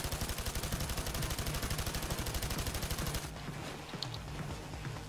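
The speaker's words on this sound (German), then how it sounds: "ich warte sogar und baller ein bisschen in die Luft" Rapid automatic gunfire sprayed into the air in the heist game Payday 2, a loud steady burst of evenly spaced shots for about three seconds, then stopping into quieter game ambience with a faint click.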